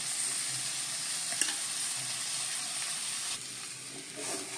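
Flattened rice (poha) is tipped into a pan and stirred for Mumbai-style bhel, giving a soft, steady sizzle with scraping stir sounds and a small clatter midway, fairly quiet and close.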